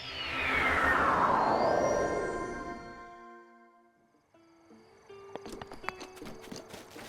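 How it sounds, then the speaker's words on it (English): Hooves clip-clop steadily as a horse named Noir walks along in Zelda: Breath of the Wild, close and evenly paced after a loud sweeping game sound fades out. "this is our new horse. This is Noir."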